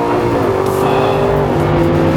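An Aston Martin Vantage S engine revs hard on a race track, a loud, steady, rising roar heard close up for a couple of seconds, with no talking over it.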